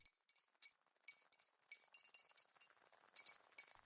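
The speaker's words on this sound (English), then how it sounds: "It sounds like the clinking of metal." Repeated high metallic clinks, like small keys jangling against one another in a dark stone corridor, sounding in irregular bursts of sharp, bright chimes with short silent gaps between them and no voices.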